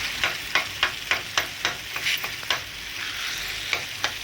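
Bheja bhurji fries in hot oil with a steady, bright sizzle, while a spoon stirs and scrapes through it in a regular rhythm of about two strokes per second. The sound is close and no one speaks.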